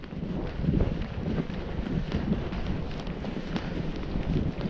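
Strong wind whipping across a frozen lake during tip-up ice fishing, a steady rough low rumble buffeting the microphone throughout, with no voices.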